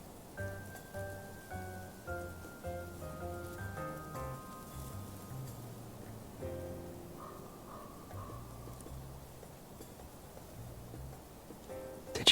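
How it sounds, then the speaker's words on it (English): Rain falling in the video game Love and Deepspace, a soft, steady patter that sits quietly beneath a gentle melodic music track and continues throughout. "The weather report didn't mention anything about localized rain today."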